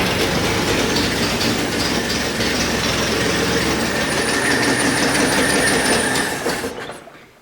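The engine of an abandoned 1962 AMC Rambler runs rough with a loud, continuous clattering rumble close by, then dies away over the last second.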